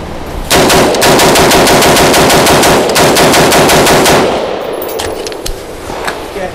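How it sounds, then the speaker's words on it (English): Stag 15 rifle fired in a rapid string of about 20 rounds, loud and close, with sharp evenly spaced shots for roughly four seconds before stopping, followed by quieter scattered clinks and outdoor ambience. "Dump 20 rounds."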